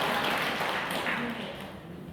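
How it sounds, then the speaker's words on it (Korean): An audience at a Korean Catholic lecture answers with applause, a soft, distant patter of many hands that slowly thins and fades. "박수로 응답해 주십시오."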